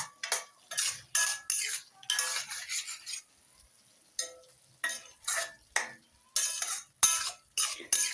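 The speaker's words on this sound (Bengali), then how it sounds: "এবারে আমি একটু এভাবে এটাকে নেড়ে চেড়ে মিশিয়ে নেবো" An onion scape and puti fish curry is stirred in a pan, a spatula making rhythmic scraping strokes with light clinks, about a dozen in all with a brief pause midway.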